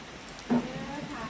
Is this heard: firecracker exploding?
no